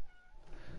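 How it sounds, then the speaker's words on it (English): A restless cat meows close to the microphone, a brief drawn-out call over background noise, with no speech. "What is your problem, cat? This cat is non-stop, and it does not want to shut up."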